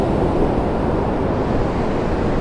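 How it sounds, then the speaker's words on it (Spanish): Large ocean waves surge at Oxnard beach, California, a loud, continuous rushing wash of surf with wind noise, steady and close throughout. "estas grandes olas que están o surgen aquí todo el tiempo"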